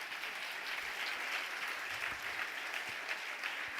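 Steady applause fills a church hall: a dense, even patter of many hands clapping at once, continuous and without voices.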